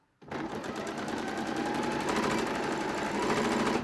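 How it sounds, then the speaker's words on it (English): Sewing machine stitching down the side of a dungaree bib made of needle cord, starting abruptly and running as a steady fast mechanical rattle close to the microphone without talk. "We're going to stitch down the side."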